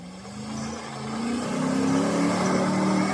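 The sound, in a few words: old Hemi V8 engine of an off-road vehicle revving on a slope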